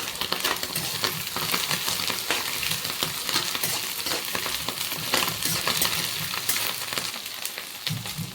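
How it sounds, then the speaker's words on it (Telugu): Green chilies frying in a pan with steady crackling sizzle and the scrape and clatter of stirring throughout, close and dense with no talk. "పచ్చిమిర్చి వేసుకుంటున్నా."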